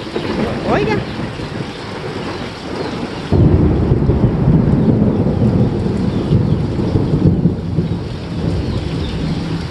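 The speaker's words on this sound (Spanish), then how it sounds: "Se oye un gran trueno por ahí." A loud roll of thunder rumbles over steady, heavy rain in El Salvador that pours continuously, growing denser partway through.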